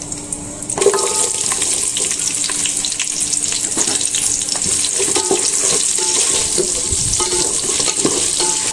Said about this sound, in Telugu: ఆనియన్స్ని పచ్చివాసన పోయేంత వరకు బాగా వేపుకోవాలి